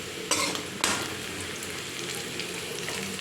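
Whole spices, including cardamom, frying in a pan, a steady close sizzle with two sharp bursts of stirring or scraping near the start, then a continuous hiss.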